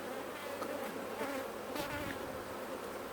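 Dense, steady buzzing of honey bees swarming close around an open hive outdoors, a continuous droning hum with individual bees swelling louder as they pass near.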